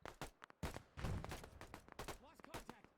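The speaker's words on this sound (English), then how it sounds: "Oh, that's gunshot." Gunfire in the VR video game Operation Harsh Doorstop, a few sharp shots scattered across about three seconds, mixed with someone talking.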